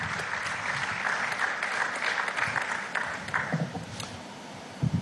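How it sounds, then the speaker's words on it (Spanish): A crowd at a tourism fair in Venezuela applauds steadily, a dense wash of clapping that tapers off toward the end. "Un aplauso a Cilia Flores de Maduro"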